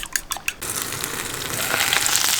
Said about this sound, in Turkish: Patateslerin altı kızarana kadar kontrollü bir şekilde pişiriyorum.